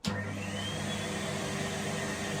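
A Henry Hetty Hoover vacuum cleaner, previously faulty, switches on with a sharp start and then runs steadily, a close, continuous motor whine and rushing airflow filling the short stretch with no talking.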